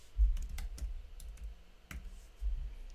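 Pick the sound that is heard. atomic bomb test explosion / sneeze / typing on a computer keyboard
typing on a computer keyboard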